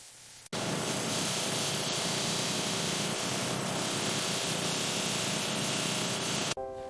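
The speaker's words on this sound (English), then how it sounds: "Grinding prepares the surface for fine polishing." Precision tool grinding the surface of a gold World Cup trophy, a loud steady hissing grind that starts abruptly, holds evenly and cuts off near the end.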